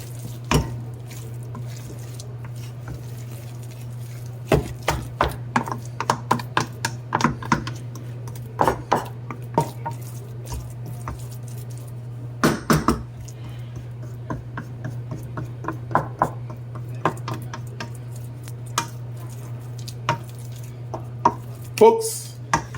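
Mukimo, a Kenyan mash, is stirred in a cooking pot, the spoon giving irregular soft scrapes and clacks over a steady low electrical hum.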